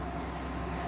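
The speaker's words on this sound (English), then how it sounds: "there's this huge truck that is just driving past right now" Large truck rolling past outside, a steady low rumble that fills the whole second at constant loudness with no voices over it.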